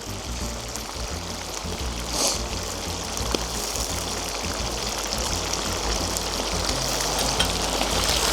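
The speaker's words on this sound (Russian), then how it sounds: "Они чуть обжарятся, и тогда сами отлипнут от кастрюли." Meat frying in a kazan over a campfire in the taiga beside a mountain stream, a constant loud sizzle and crackle blending with running water, no talking.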